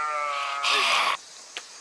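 A sheep on a farm gives a single close, wavering bleat, followed by a short quiet and a faint brief sound.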